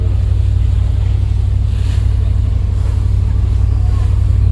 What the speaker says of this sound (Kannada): ಸ್ಪೀಡ್ ಬೋಟಲ್ಲಿ ಸ್ಪೀಡಾಗಿ ಬರ್ತಾ ಇದೆ, ಅದಕ್ಕೆ ಸ್ಪೀಡ್ ಬೋಟ್ ಅನ್ನೋದು.